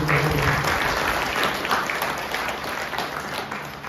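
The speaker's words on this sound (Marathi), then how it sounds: "सगळ्यांनी एकदा टाळ्या वाजवून" An audience at a Devi Bhagavat katha held at a Ganesh temple in Pune claps together in a dense, sustained round of applause that fills the room and slowly eases off, with some voices mixed in.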